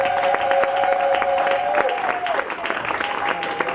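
Congregation at a French-language gospel sermon applauding and cheering, a dense steady wash of clapping with scattered voices and a sustained shout or tone carrying through, loud and continuous throughout.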